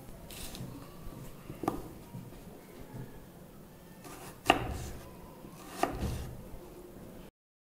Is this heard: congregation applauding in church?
no